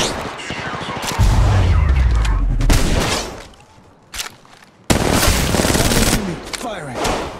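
Rapid bursts of automatic gunfire and heavy booming shots crack through a firefight in the mobile battle royale game Apex Legends Mobile, loud and layered, with short lulls between volleys.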